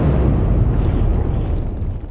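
A home-cast 7/8-ounce shotgun slug strikes a cinder block, giving a loud, close, broadband blast with heavy low rumble that fades slowly over two seconds.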